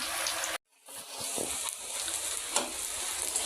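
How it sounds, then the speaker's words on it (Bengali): Rice sizzles and crackles steadily as it is dry-fried and stirred in a pan, with a brief gap near the start and occasional scraping from the stirring. "এই যে চালটা প্রায় ভাজার ভিতরেই হয়ে যাচ্ছে আর একটু ভাজতে হবে এখনো হয়নি"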